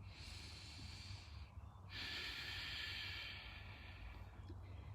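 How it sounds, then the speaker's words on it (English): Slow breaths drawn in and pushed out through the nose during a yoga flow, soft airy hiss rising and falling, close and quiet with no talking. "Inhale through your nose and exhale through your nose."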